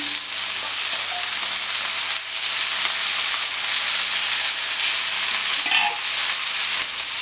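Loud, continuous frying hiss as kale goes into a pan of sautéed onions with turmeric, with faint stirring and scraping underneath the dense sizzle.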